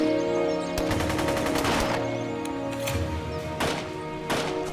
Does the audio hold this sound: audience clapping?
no